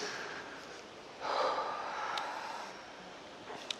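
A deep, slow inhalation during a calming breathing exercise, a soft airy rush swelling after a second and fading over about two seconds, close and fairly quiet with no talking.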